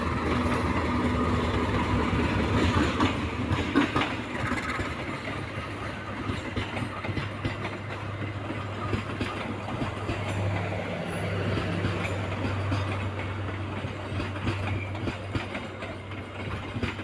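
A passenger train rolls past on a railway line in Indonesia with a loud, close, continuous rumble. Steady clickety-clack of wheels over rail joints runs throughout.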